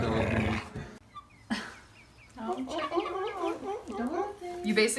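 Chickens cluck and squawk in a rapid, close series, with a brief sharp noise at the start and a short high call near the end.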